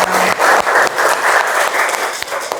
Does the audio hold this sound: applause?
yes